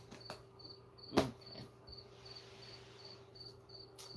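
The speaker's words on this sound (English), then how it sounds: "I got the crickets right here" Crickets chirp in a steady, evenly spaced pulse at moderate distance, with a brief louder knock partway through and a faint constant hum underneath.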